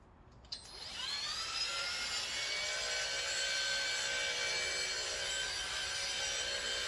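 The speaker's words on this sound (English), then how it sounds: "I'm going to get the 1-inch rotary" A 1-inch rotary polisher working the paint of an Aston Martin DB4 Vantage GT, spinning up with a whine and then holding a steady, high-pitched buzzing drone close by.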